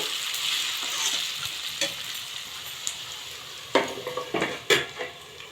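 Potatoes frying in oil in a covered pan for poha, a soft steady sizzle with a few sharp clinks and scrapes of a spoon against the pan toward the end.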